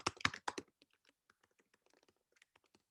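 Keys clatter on a computer keyboard as a name is typed, a quick dense burst of clicks at first, then sparse, faint taps trailing off alone.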